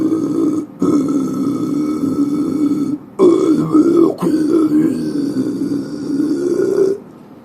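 A man demonstrates vocal growls, producing several sustained, rough, guttural tones with short breaks between them. The growls are loud and close, and the third shows a warbling pitch.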